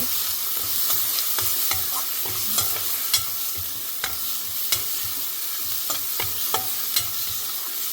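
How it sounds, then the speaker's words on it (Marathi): Garlic fries and is stirred in hot oil for a Marathi squash dish, giving a steady close sizzle broken by frequent sharp clicks and scrapes of a spoon against the pan, with no voices. "लसूण हा परतला की खमंग होतो"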